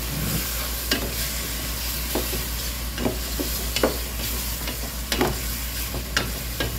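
Chicken for adobo fries in a pan with a constant sizzle, while a utensil stirs and scrapes at irregular moments, close and steady throughout.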